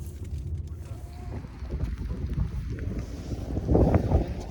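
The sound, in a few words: wind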